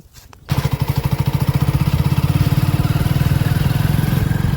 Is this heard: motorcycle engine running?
yes